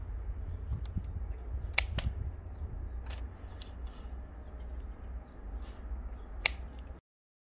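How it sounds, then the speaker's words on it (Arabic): Scissors snip the ends off wooden sticks for a craft piece, several sharp, distinct clicks spaced apart over a low, steady background hum, close and without talking. "بقص الاطراف هذه باستخدام المقص"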